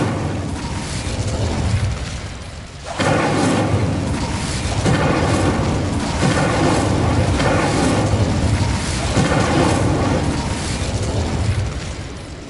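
Fiery spell blasts from the Incendio charm in the Hogwarts Legacy video game, a dense run of loud booming bursts and crackling flame over a busy combat soundscape, sustained after a brief lull near the start.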